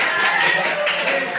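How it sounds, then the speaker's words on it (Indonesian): A classroom of students claps hands together in a brief, close burst of rapid clapping, loud and even for about a second and a half. "Oh iya, kita tepuk tangan."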